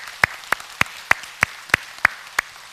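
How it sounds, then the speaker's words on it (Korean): A church congregation at a Sunday morning service claps in unison, eight crisp, evenly spaced claps in a steady rhythmic beat, loud and clear against a quiet room. "우리 하나님께 영광의 박수 올리겠습니다"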